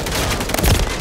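A dense burst of rapid gunfire from an enemy in a Rebirth shooter video game, loud and close, with heavy low booms toward the end of one second of fire.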